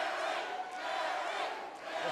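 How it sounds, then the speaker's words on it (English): Arena crowd at an MMA fight roaring and cheering in a dense sustained wash, with a commentator talking over it. "Listen to this crowd."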